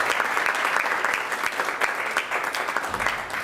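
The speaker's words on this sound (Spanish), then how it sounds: "Recibimos con un fuerte aplauso" A postgraduate public policy event audience gives a speaker a dense round of applause, a steady wash of many hands clapping at once that stays loud and unbroken throughout.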